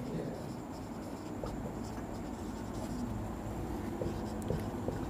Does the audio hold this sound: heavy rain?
no